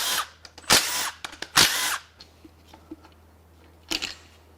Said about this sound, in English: Let's go ahead and unbolt the oil pump.